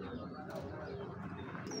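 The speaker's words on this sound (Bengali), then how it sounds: "দোবাস কবুতর এখন একবারে পিওর দোবাস" Pure Dobas racing pigeons, a breeding pair, coo softly in a loft, low and close with faint chirps and a soft voice nearby.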